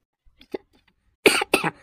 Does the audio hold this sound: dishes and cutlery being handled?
no